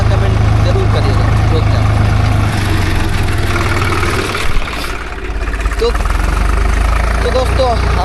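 A tractor engine runs at a steady idle nearby, a continuous low rumble throughout with a brief dip in the middle, while people talk over it.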